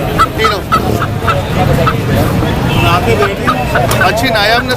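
White Sultan chickens at a busy bird market in Karachi, clucking and calling over a steady babble of crowd noise, with people talking nearby.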